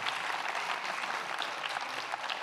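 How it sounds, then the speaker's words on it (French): An audience at a national congress applauds three speakers, a soft, even patter of many hands that sounds fairly distant and quiet throughout. "On peut applaudir nos 3 intervenantes."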